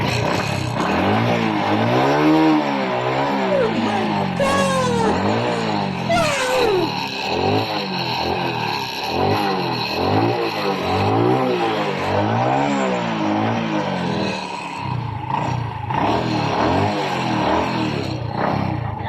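Kawasaki Rouser 180 and Honda XRM 125 motorcycles, both flood-damaged in typhoon Basyang, are revved repeatedly. Their engines rise and fall in rhythmic, close, loud pulses for nearly twenty seconds.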